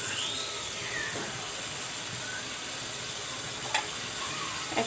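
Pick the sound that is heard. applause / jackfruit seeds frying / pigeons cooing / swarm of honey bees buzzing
jackfruit seeds frying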